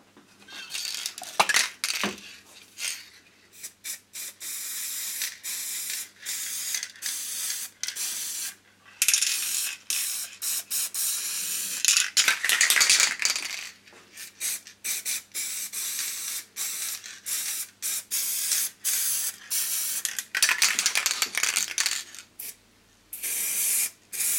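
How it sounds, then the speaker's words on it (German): A spray can lays clear lacquer over a handmade DIY storage box, giving repeated hissing bursts of several seconds each, close and loud, separated by short pauses and a few small clicks. "ihr solltet das einfach ganz vorsichtig und ganz, ja, dünn von einer weiteren Entfernung so einmal komplett drüber sprühen"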